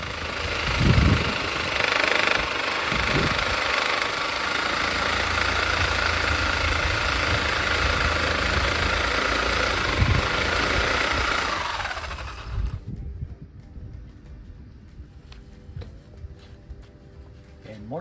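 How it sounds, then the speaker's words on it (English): A Sawzall reciprocating saw cuts slots into a bushing on a cheap sailboat with a fiberglass hull, a loud sustained buzzing that runs for about twelve seconds before stopping, with faint sounds after. "I'm going to use a sawzall and cut slots in the bushing all the way back up into the end"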